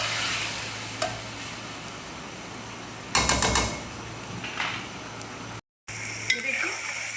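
Chicken pieces and chopped onions fry in oil in a handi over a high flame, a steady broadband sizzle running throughout with a few clattering stirs and scrapes in the middle, close and fairly loud.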